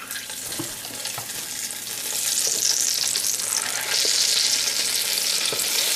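A batch of soft shell crabs dropped into hot grease sets off a loud, dense roaring sizzle that swells after a couple of seconds and stays strong and close to the end, with no one talking.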